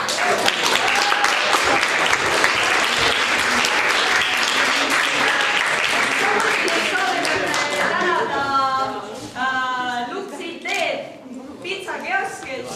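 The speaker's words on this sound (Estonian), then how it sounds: "Nii et suur aplaus neile." Loud, sustained audience applause fills a community participatory café gathering in Järvamaa, 2014, thinning out near the end as a voice begins speaking over the last claps.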